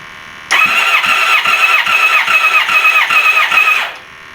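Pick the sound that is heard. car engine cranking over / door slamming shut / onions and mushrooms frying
car engine cranking over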